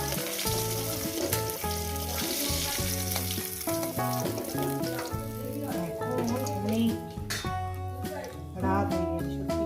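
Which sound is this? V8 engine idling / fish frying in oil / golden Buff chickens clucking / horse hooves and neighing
fish frying in oil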